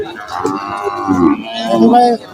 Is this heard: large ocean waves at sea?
no